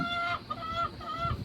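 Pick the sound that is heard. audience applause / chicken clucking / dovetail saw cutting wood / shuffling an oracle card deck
chicken clucking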